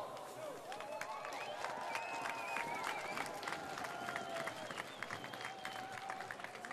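Spectators at the Svenskt Grand National horse race applaud steadily as the horses come in to meet the crowd, with dense clapping and crowd noise running the whole time under an announcer's voice.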